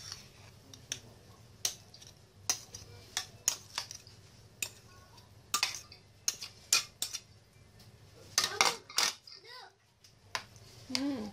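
A spoon clinks and scrapes against a bowl as eggplant dip for mutabal is mixed, in quiet intermittent taps with soft squishy stirring and a faint voice in the background.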